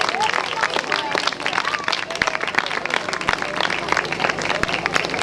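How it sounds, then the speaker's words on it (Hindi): A church congregation at a Pakistani service bursts into sustained applause, dense overlapping claps with cheers and voices mixed in, steady and loud throughout. "आपकी भरपूर तालियां हैं।"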